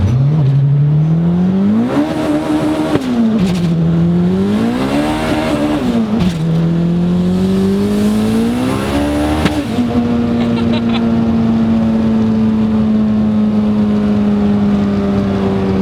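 A turbocharged Honda EG hatchback accelerates hard through several gears, its loud engine note rising in pitch and dropping at each shift before settling into a steady high drone, close and alone.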